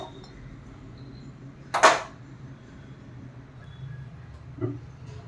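A kitchen gas stove is lit with a single sharp click and quick hiss, followed by a faint second click in a quiet room.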